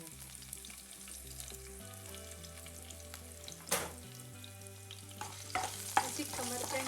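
Garlic and spring onion frying in oil left over from frying chicken, a continuous close sizzle with stirring scrapes and occasional sharper spits and pops.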